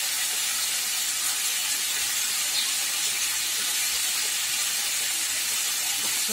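Turmeric hits a hot pan in a Bengali kitchen with a steady, loud, hissing sizzle. The even spitting carries without break and no one speaks over it.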